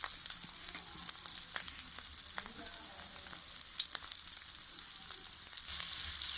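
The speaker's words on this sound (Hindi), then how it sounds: "तब हम दूसरा फ्राई कर रहे हैं।" Shami kebab sizzling as it fries in a pan, a steady bright crackle of hot oil with small pops scattered throughout, close and moderately loud with no talking.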